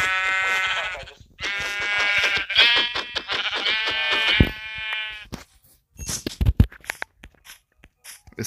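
Sheep in Minecraft bleating loudly and close, several long wavering bleats in quick succession, then a pause followed by sharp crunching, thudding game sounds.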